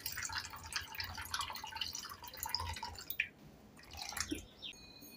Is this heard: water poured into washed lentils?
yes